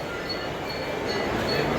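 Train idling at a busy railway platform on a suburban line toward Thane, a steady dense rumble with faint high tones, continuous and fairly loud.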